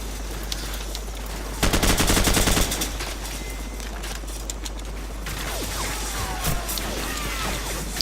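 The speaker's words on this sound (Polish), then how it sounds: "Strzelają do mnie." Burst of rapid automatic gunfire in the Call of Duty Modern Warfare video game, a loud dense rattle lasting about a second against steady battlefield ambience with scattered faint shots and a low hum.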